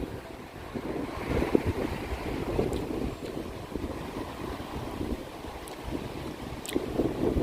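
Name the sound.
wind blowing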